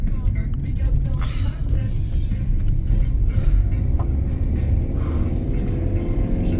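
A car drives through a hairpin bend on a road near Matmata in Tunisia, its engine a constant low, close rumble filling the cabin, while people talk faintly over it.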